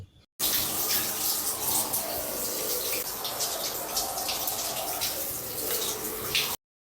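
Water pours in a steady, continuous stream during bathing, a loud close splash and gush that starts abruptly, runs for several seconds and cuts off, with no talk.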